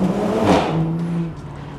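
A BMW M340i with a B58 engine, a 200-cell downpipe and a resonated OPF delete exhaust revs close by. A deep, loud rev swells and then settles into a falling, fading drone.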